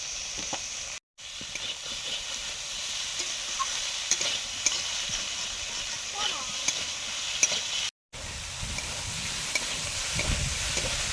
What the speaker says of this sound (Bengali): এবার সয়াবিন আলুটা দিয়ে দিলাম।